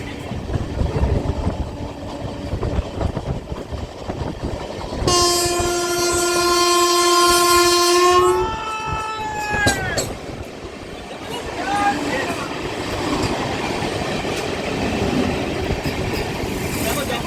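An Amrit Bharat train pulls away, its loud sustained horn blaring for several seconds before fading, then the rumble and rattle of the carriages gathering pace, heard from on board with voices in the background.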